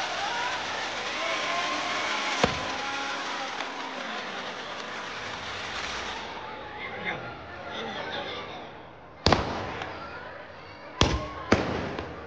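Fireworks crack and burst at a Vrindavan Holi chariot procession, a sustained crowd and street roar running throughout, punctuated by a sharp bang early on and a cluster of loud, close explosions near the end.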